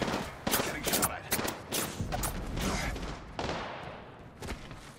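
Gunfire in the Apex Legends video game: a series of sharp, rapid shot bursts and volleys at moderate volume, clustered irregularly with brief gaps, fading toward the end.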